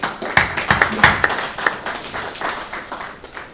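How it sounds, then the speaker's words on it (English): Attendees at an annual association meeting give a short round of applause, several sharp claps at first that fade into a thinner patter. "So give yourselves a big round of applause."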